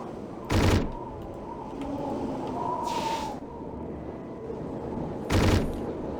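Bolt gun firing in the first-person video game Hedon: two loud, sharp bursts about five seconds apart over a steady background rumble, with a brief mid-range swell between them.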